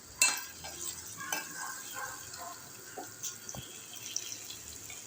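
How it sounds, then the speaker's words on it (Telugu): Ginger garlic paste and curry leaves fry in a pan for a Telangana-style taro root stew, a soft sizzle broken by stirring scrapes and clinks, fairly quiet and close. "ఇక పచ్చి వాసన పోయేలాగా వేయించుకోవాలి"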